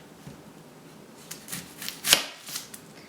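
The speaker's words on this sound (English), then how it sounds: "So the first thing you want to do is cut off either end." A knife chops through the ends of a yellow onion on a cutting board, giving a few soft, uneven cuts ending in one sharper thud.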